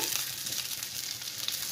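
Fish and vegetables frying slowly in a pan, a soft, even hiss of oil that stays close and fairly quiet throughout, with no voices.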